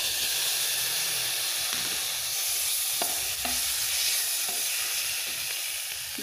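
Tomatoes are stirred into a pan of frying river fish curry, giving a constant loud sizzle and hiss with occasional soft scraping strokes of the spoon.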